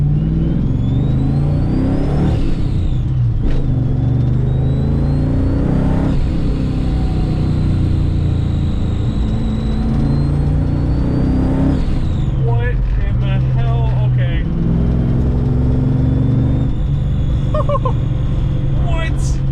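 A supercharged Saleen Fox Body Mustang is revved hard, its engine rising and falling through several loud climbing sweeps with a whining supercharger tone, while a person talks over it.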